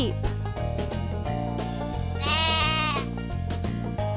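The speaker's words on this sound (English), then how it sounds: "Sheep." A sheep bleats once, a wavering nasal cry, over a bouncy children's tune with a steady beat.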